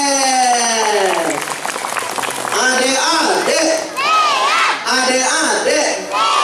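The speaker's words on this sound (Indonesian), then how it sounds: "Tepuk tangan dong buat" Schoolchildren cheer and applaud at an elementary school Islamic New Year gathering, a loud crowd of young voices shouting and clapping continuously, with an adult voice speaking briefly over them.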